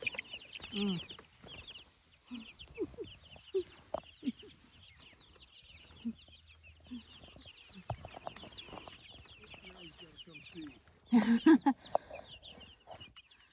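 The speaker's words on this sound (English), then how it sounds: "Look, there's baby chickies there." Newly hatched egg-laying breed chicks peep and chirp softly in short scattered calls, with faint murmuring voices and a few louder bursts near the end.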